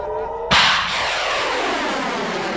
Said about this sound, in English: All it does is send up rockets that explode in the air and don't actually intercept anything.